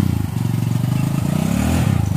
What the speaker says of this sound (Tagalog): Oh, sakay ka dun kay Dado dun sa motor.